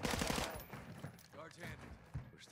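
Rapid automatic gunfire from a Call of Duty match, a dense burst of shots up front that gives way to scattered game effects and a player talking.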